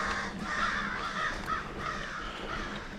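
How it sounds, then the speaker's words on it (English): Several crows caw in a repeated harsh series, moderately near and clear against quiet outdoor background along a mountain biking trail. "Hello, crows."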